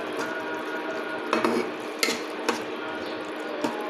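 Chili powder, turmeric, cloves, cinnamon, cardamom and chopped tomato are stir-fried for a mutton curry. A spoon scrapes and clinks against the pot in irregular strokes over a soft, continuous sizzle, with no talking.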